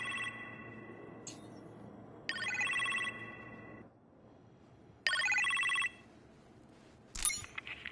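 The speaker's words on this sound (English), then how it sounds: "You appear to have a phone call in the kitchen" A telephone rings in a kitchen with electronic warbling bursts, several rings separated by short pauses, fairly close and clear with no talking.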